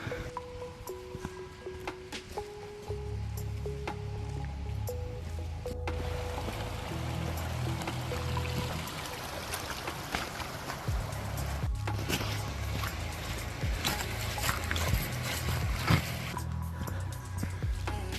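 Continuous spring water trickling and splashing close by in a forest, a steady wet babble with low background rumble throughout.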